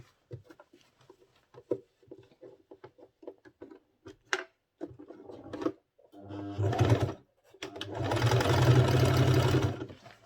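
A sewing machine stitching men's senator wear runs in short, halting bursts of clicking, then settles into a longer steady whirring run, close and clear with no talk.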